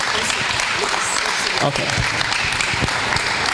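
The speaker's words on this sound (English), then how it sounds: "So let's clap our hands" An audience at a book launch claps steadily together, a dense run of applause throughout, with a brief spoken word from someone in the room.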